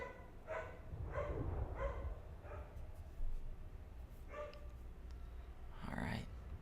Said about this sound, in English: Looks like the dogs finally calmed down